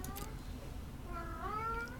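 A cat meows once, faint and drawn out, over a quiet background hum with no talking.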